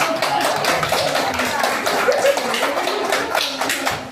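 A class of students claps after a history debate, with brisk, uneven hand claps running throughout and some faint voices murmuring underneath.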